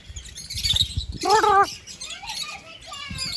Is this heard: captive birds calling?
yes